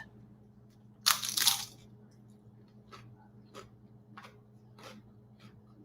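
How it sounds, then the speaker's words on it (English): Someone bites into a crunchy plant-based, nacho-like boat, giving a short, loud crunch near the mic, followed by a few faint chewing clicks over quiet room hum. "It has that crunch to it, like a nacho."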